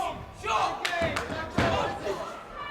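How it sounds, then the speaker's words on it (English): Boxing punches land in an amateur bout, a few dull thuds and slaps standing out over a constant crowd murmur and commentators talking throughout. "you can hear those shots thud"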